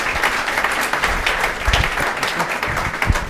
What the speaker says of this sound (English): Guys, how about a round of applause for these guys?